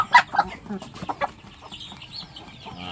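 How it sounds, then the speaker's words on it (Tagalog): Clucking from a Rhode Island Red and Black Australorp crossbreed chicken, a few short close calls at the start, then softer scattered clucks and faint background noise. "resulta yan ng crossbreed ng Black Astrolorp tsaka ng Rhode Island"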